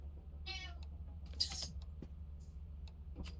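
A cat meows twice in a Lethal Company game, faint and clipped, among scattered small clicks and a low steady hum.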